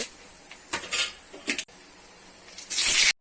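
Oil in a pan on a stove crackles and spits as mustard seeds, urad dal and chana dal are tempered in generous oil. Metal clinks against the pan in short bursts, ending in a loud, steady sizzle with no talk.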